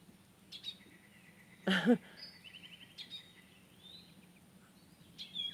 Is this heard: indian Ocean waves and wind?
no